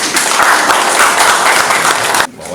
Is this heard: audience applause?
yes